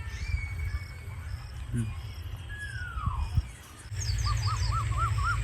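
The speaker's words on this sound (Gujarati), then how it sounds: "કોયલ ટવકા કરે ને મિત્રો" A koel calls with rising, repeated whistled notes from a village setting near Botad in rainy weather, with other birds chirping, crickets buzzing steadily and a low rumbling background.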